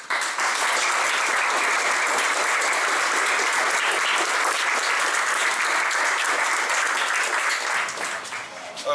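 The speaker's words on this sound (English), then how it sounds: "give them a big round of applause" An indoor audience applauds a panel after an evening talk, steady dense clapping from a crowd at close range, sustained for about eight seconds before tapering off.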